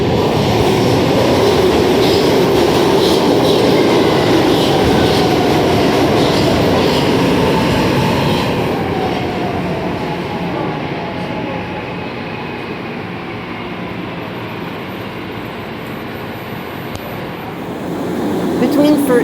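A SEPTA Market-Frankford Line train in Philadelphia rumbles along loudly, a steady roar with rail clatter that eases toward the middle and swells again near the end, with faint squeals on the track.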